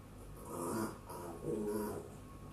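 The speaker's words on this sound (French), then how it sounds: "Ne vous inquiétez pas, c'est le chien qui s'amuse." A dog growls playfully indoors, two low rumbling bursts rising and falling in quick succession, quiet and close with no talk over it.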